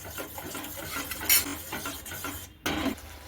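Spices and yogurt get stirred quickly into a thick gravy in a pot, soft wet scraping and clinks of the spoon against metal, close up, with a brief gap near the end.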